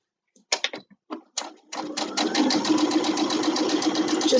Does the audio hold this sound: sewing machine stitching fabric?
yes